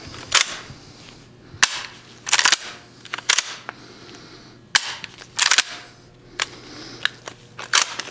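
Rifle actions cycled by hand at a firearms auction preview, giving a series of sharp, close metallic clacks and snaps spaced irregularly, some in quick double or triple bursts, over quiet room tone.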